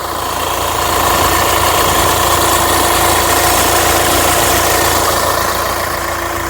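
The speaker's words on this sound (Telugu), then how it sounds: "ఇంజన్ బీటింగ్ బాగుంది." A 2019 Hyundai Venue diesel engine idles loudly and close, a steady, even hum with a faint mechanical rattle that holds without change throughout.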